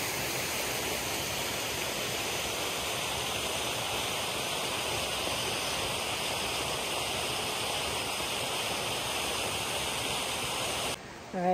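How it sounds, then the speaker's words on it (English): A waterfall in the Adirondacks in November gives a loud, steady, unbroken roar of rushing water, with a brief disturbance right at the end. "I got down to the viewpoint at the top of the waterfall."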